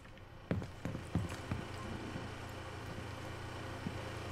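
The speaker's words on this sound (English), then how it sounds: "I still hear footsteps, at the door" Footsteps in Rainbow Six Siege near a door: a few soft, evenly spaced thuds early on, then a faint steady game hum with no talk.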